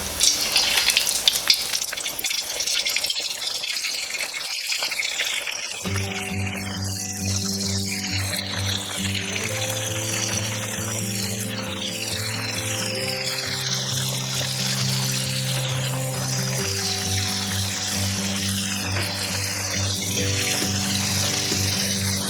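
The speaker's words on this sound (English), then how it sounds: "carefully drop your wings into the oil" Chicken wings for Korean fried chicken drop into hot oil and burst into a loud, dense sizzle and crackle of deep frying that continues steadily, close up with no talking.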